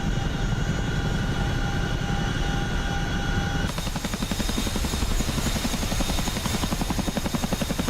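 A helicopter in DCS World, its rotor chop and engine whine loud and steady throughout; partway through the blade thumping grows sharper and faster.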